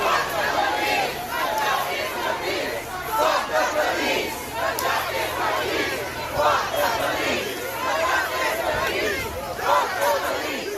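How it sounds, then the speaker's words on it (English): A large protest crowd gathered outside Downing Street in London, flying an Antifa flag, chants against police in loud, rhythmic surges of many voices, the massed shouting rising and falling continuously. "a large crowd flying an Antifa flag was chanting, "F*** the police," outside Downing Street"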